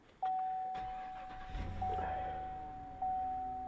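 A Cadillac Escalade starts up: a brief crank and engine catch, then a settling idle, with electronic chime tones ringing from the cabin in the background.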